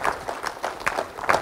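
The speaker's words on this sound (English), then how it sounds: "Let's give a praise clap to the Lord." Congregation at Pine View Baptist Church in Augusta, Georgia gives a praise clap during a sermon, short bursts of clapping rising and falling in uneven waves with no voices over them.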